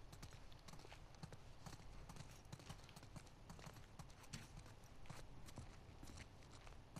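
Horse hooves in The Last of Us Part II clip-clop steadily on hard ground at a walking pace, faint and continuous under a noisy rumbling background.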